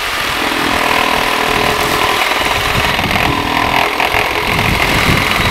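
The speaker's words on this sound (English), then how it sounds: "Let the saw do the work." A Milwaukee M12 cordless saw runs at full throttle while cutting through hedge wood, giving a loud, steady buzzing whine with a rough, chattering texture throughout and no voices.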